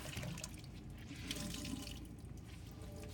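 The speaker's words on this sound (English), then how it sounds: "So you're gonna wet it, hot soapy water, or well, hot water first." A hot-water tap runs steadily to wet a cleaning rag, a close, continuous splashing rush with a few drip-like accents and no voices.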